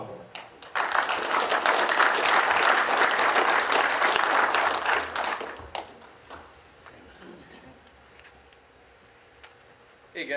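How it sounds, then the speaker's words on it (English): An audience at a live evening talk breaks into applause, a dense wash of clapping that lasts about five seconds before thinning out to scattered claps, followed by quieter room sounds. "So let's give him a round of applause."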